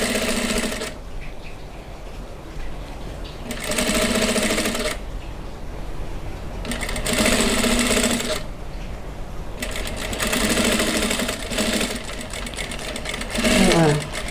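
A sewing machine stitching a hem runs in several loud bursts of rapid, even clatter separated by quiet pauses, close by, with someone speaking briefly between runs.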